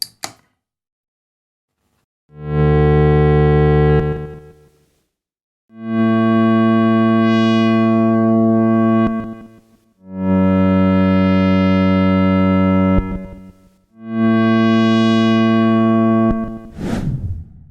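Ambient synth pad from a Korg Monotron Duo run through a Zoom MS70 CDR effects pedal: four long sustained, harmonically rich swells, loud and alone, separated by short silences, ending in a brief downward sweep.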